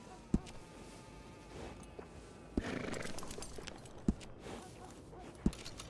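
Horses in the open-world western game Red Dead Redemption 2, with a few sharp hoof knocks spaced through a low ambient bed and a brief rustling swell in the middle, fairly quiet and without talk.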